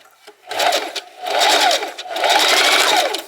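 A Singer Heavy Duty sewing machine stitches slowly in three short bursts of motor whir, each rising and falling in pitch, with brief pauses between them and no talking.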